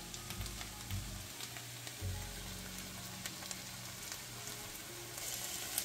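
Chopped ginger frying in a pan for a broccoli mash, a continuous crackling sizzle with scattered pops and occasional stirring scrapes, fairly quiet and close, without speech.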